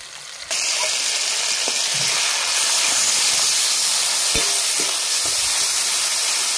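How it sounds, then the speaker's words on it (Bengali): Onion paste hits hot oil over browned fried onions in a pan: a sudden burst of loud, steady hissing sizzle that holds evenly, with a few faint clinks of stirring. "পেঁয়াজটা লাল করে ভাজা হয়ে গেছে, এবার আমি পেঁয়াজ বাটা দিয়ে দিচ্ছি।"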